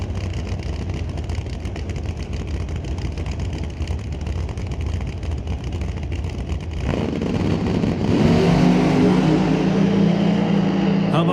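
Supercharged screw-blown Hemi drag race Corvette, roughly a 2017–2018 model, roaring under broadband engine noise that swells louder near the end as the car launches, with an announcer talking over it.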